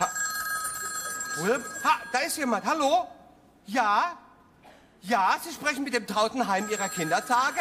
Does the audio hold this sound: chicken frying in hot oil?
no